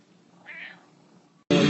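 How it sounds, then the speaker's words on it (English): A house cat giving one short, soft meow, close and quiet in a near-silent room, followed by an abrupt loud noise at the end. "Cat!"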